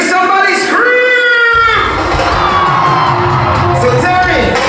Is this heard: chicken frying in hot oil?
no